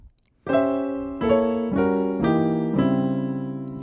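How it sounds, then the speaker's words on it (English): Piano chords move through a sequence of five sustained voicings, each struck clearly and left ringing, shifting step by step like a gospel diminished passing progression. "have you heard someone play a diminished passing movement that sounds something like this?"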